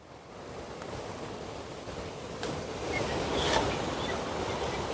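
Sea waves at Kollam beach in Kerala roll in as a steady broadband wash of surf, swelling slightly louder toward the end, with wind over the microphone and no voices.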